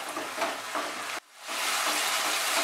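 Dhaba-style chicken bharta with yogurt stirred in, frying over a raised flame: a steady, close sizzle with stirring scrapes, a brief drop to near quiet around the middle, then a return to a full, even hiss.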